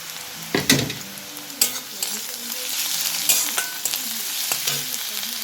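Onions frying in a pan for a crab and pumpkin curry, a close, steady sizzle broken by several sharp scrapes and clinks as a spoon stirs them, with no talk.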